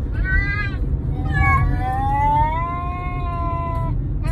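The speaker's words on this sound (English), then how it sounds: "We're waiting to move the cats." Cats meow repeatedly up close while waiting to be moved to a new house, their long drawn-out calls rising and falling in pitch over a steady background rumble.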